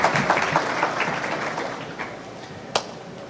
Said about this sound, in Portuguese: Uma salva de palmas e muito bem-vindos.